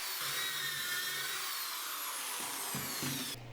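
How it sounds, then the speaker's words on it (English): A power drill fitted with a 1/4-inch bit and depth stop bores dowel holes into wooden panel boards, a close, steady high-pitched whine that runs continuously and ends with a brief change in pitch. "I put a depth stop on the 1/4-inch drill bit and set it to 7/8 of an inch"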